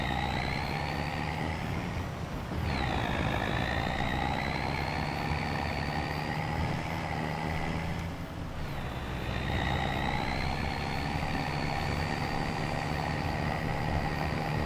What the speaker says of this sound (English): the truck does pretty well once, you know, it's got some momentum behind it